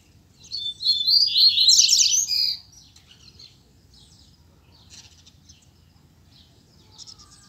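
Caged double-collared seedeater songbird calling, with a bright, loud burst of chirping song early on, followed by fainter scattered tweets against a quiet background.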